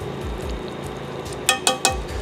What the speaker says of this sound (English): See how it's boiling on one side?